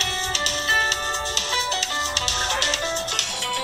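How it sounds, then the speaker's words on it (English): A mobile phone ringtone plays a repeating, tonal melodic pattern with rhythmic accents, fairly loud and steady with no talking over it. "You hear my phone going?"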